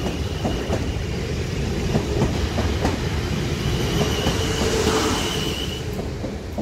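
An electric passenger train rumbles steadily past at close range at Guildford station, wheels clattering and squealing faintly on the rails, with a continuous loud roar throughout.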